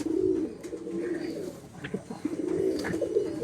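Madrasi pigeons cooing inside a loft at Ichhapur, Kolkata, two clear throaty rolling coos near the start and end with faint clicks and rustles between.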